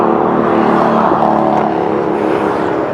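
Steady engine drone of a BMW R 1250 GSA adventure motorcycle under way, a continuous loud hum with a slight rise near the middle and no break over a few seconds.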